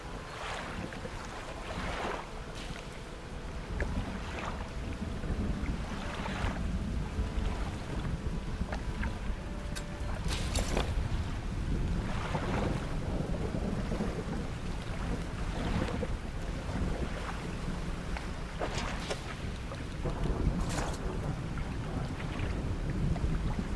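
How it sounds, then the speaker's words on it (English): Water in an underwater exploration game, with continuous lapping waves and sloshing surf, rushing wind-like noise and occasional splashes, moderately loud and steady throughout, no voices. "mostly just with, like, the sounds from the water"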